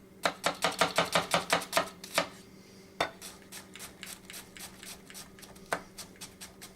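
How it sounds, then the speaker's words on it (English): A knife quickly dicing a small onion on a cutting board, a fast run of crisp close chops that slows into lighter, scattered taps, with no talking. "do a quick dice of the onion"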